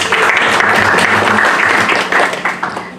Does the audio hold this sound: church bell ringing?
no